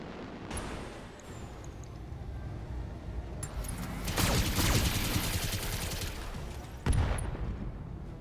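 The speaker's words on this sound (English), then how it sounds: "And then fire the machine guns." BattleMech machine guns in the mech game BattleTech fire sustained rattling bursts that swell mid-clip, then a sharper impact, all at moderate loudness with no talk.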